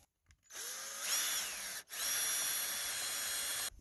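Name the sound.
drilling into wood stud with 5/8 wood boring bit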